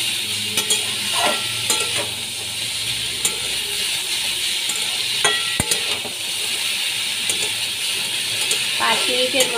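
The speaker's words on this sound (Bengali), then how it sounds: "ভালো করে কষিয়ে নিচ্ছি" Spiced taro stolons (kochur loti) with turmeric and salt being stirred in a pan, a steady sizzle of frying under repeated scraping and clinking of the spoon against the metal.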